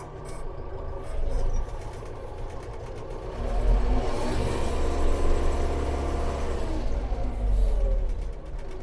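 DTZ 5504NK truck pulling away in eleventh gear, a low diesel drone building steadily in moderate loudness, with mechanical clatter and faint bird calls in the background.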